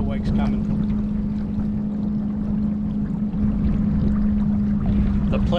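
Water churns and slaps steadily around a small boat on the water as wakes from passing pleasure boats roll in, with a continuous low motor hum underneath.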